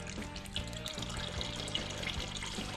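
Diesel fuel draining out of the center section of a machine with a worn shaft seal, a steady pouring trickle heard close up and continuous, without speech.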